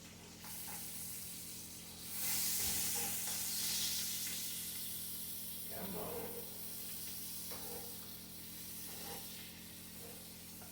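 Meat sizzling in a hot pan as butter is spooned over it, a steady close hiss with brief louder bursts of spattering and faint clinks, broken by occasional speech.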